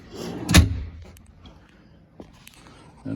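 Storage drawers beneath the helm seating on a 2022 Boston Whaler 330 Outrage boat slide shut with one solid, close thump, followed by a few faint, softer knocks.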